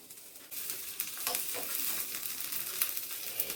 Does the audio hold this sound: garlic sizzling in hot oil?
yes